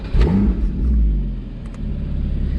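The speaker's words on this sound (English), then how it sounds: "I'm going to start it up now, so you can hear exactly how amazing it sounds" A Porsche 981 Boxster GTS engine cranks and fires up, revving briefly into a deep rumble before settling to a steady idle.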